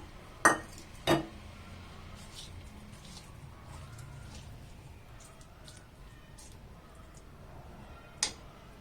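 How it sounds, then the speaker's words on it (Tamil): Ven pongal in a clay pot having its tempering stirred in, with a few distinct knocks of a spoon against the pot standing out over a quiet, steady background, and no talking. "இப்போ இந்த தாளிப்பை சேர்த்து மிக்ஸ் பண்ணி சர்வ் பண்ணிடலாம்"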